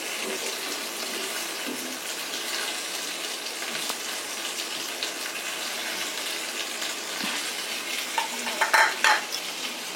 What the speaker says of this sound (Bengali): দিয়ে দিলাম ভাজা আলু।